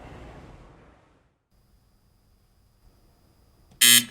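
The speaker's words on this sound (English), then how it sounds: "that buzzer means we've reached the end of round one of our game" A game show buzzer ends the round on the KEDT TV Challenge quiz match, Ingleside vs Calallen: one loud, harsh buzz cuts in near the end after fading talk and a quiet stretch.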